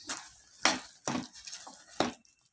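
A spoon scrapes and stirs Chettinad mochai masala in a pan in a few separate close, moderately loud strokes with short pauses between them.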